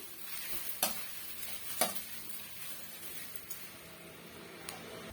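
Okra sizzles softly as it is stirred and fried in a pan, a faint steady frying hiss broken by a few sharp scrapes of the spatula.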